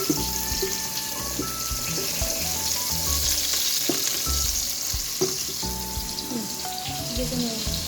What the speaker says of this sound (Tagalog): Dito na ako magigisa sa pinagkuluan ng munggo.